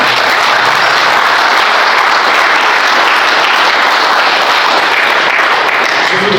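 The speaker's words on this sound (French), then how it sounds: "Si vous voulez bien applaudir le cardinal" Sustained applause from a conference audience for a cardinal, steady and dense clapping throughout with no pauses, fairly loud and close.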